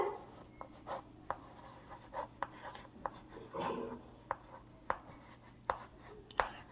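Chalk or marker writing on a board during a primary-school math lesson: short, quiet scratching strokes spaced irregularly, with soft sounds of the room between them.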